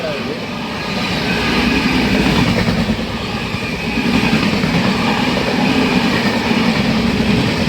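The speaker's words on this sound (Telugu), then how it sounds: "ఏదో ట్రైన్ అయితే వెళ్తుంది ఏ ట్రైన్ ఇది" A passing train on the Secunderabad to Vijayawada line, Satavahana Superfast Express journey, heard as a loud continuous rumble with clickety-clack wheel rhythm that swells midway and stays close throughout.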